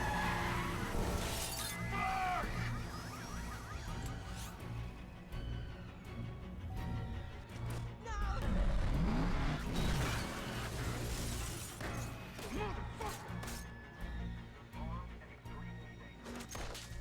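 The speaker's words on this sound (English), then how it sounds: "Baby rams Buddy's car over the edge of the railing, sending it falling several floors down" A car rammed through a railing in a dense cinematic mix of shattering glass, skidding tires and grinding metal, with a heavy crash swelling mid-way and continuous loud impacts and debris under a music bed.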